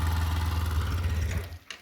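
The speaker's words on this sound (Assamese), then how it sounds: "এই আমাৰ চচিলে মোৰ বাইক ষ্টাৰ্ট দি আছে" A motorcycle engine idles close by with a steady low throb, then drops away near the end and gives a brief clack.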